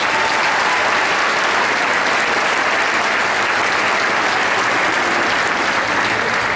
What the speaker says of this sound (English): let's give a big round of applause for the teachers